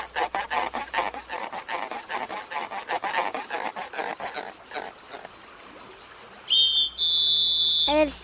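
A cartoon ant chief whistles to lead the other ants, piercing high whistle tones arriving near the end after a stretch of busy scurrying taps, the final whistle sliding downward.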